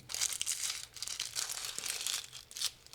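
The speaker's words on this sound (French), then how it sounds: "les derniers légumes que je vais mettre, ça va être des échalotes. Je commence bien sûr par les éplucher." Dry papery skins being peeled off shallots by hand, giving close, continuous crinkling and tearing with a few sharper crackles. The sound is alone, with no talk.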